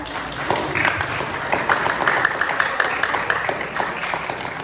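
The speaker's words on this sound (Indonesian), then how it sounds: "Itu tepuk tangan dulu dong buat temennya." School students at a legal-awareness session applaud a classmate, a sustained round of many hands clapping that fills the room steadily for several seconds, with scattered voices underneath.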